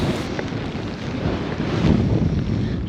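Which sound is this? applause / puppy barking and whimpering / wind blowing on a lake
wind blowing on a lake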